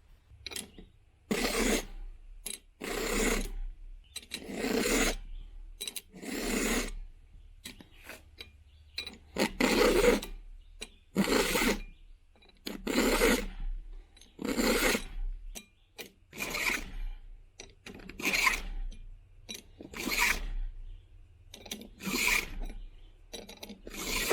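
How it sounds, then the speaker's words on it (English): A hand file sharpens a chainsaw chain in slow, regular strokes, each a close, gritty rasp followed by a short pause, repeated steadily throughout with no talking. "I'll sharpen this, and then we'll go take a hike."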